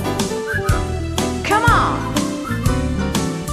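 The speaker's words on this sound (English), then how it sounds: "Just purse your lips and whistle, that's the thing." Whistled melody from a song in Life of Brian, bright sliding whistle phrases over a bouncy accompaniment with steady beats, loud and up front.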